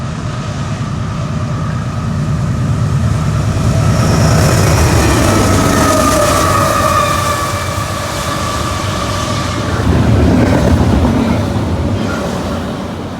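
A BNSF freight train led by locomotive H1-9 passes close by in a long, steady rumble that swells and eases, with sustained tonal lines riding over the heavy rolling noise.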